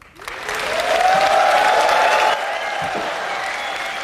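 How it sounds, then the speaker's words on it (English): Audience applause fills a CitizenCon conference hall after a talk: dense, steady clapping that swells quickly, holds loud and close, then eases slightly but keeps going. "Ich will auch applaudieren für ihn."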